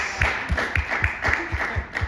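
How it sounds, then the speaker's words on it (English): Audience applause for panelists at a campus arts panel event, heard as a short burst of clapping with fairly steady, rhythmic claps and a low thumping pulse beneath, close and moderately loud. "So can we just give a round of applause to our wonderful panelists"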